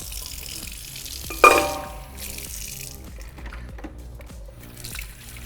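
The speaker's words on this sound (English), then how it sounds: "I'm just going to put a little bit of water in the pot to help it defrost" Water runs steadily from a kitchen tap into a cooking pot holding frozen pasta ingredients, a low continuous splash with a brief louder clunk near the start.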